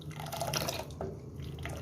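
Cold water being poured into Kashmiri pink tea, a short liquid splash and trickle heard close up, with no talking.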